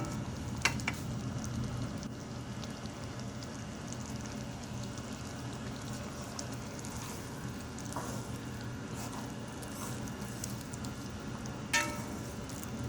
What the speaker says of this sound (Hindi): और अब आप इसको अच्छी तरह से भूनेंगे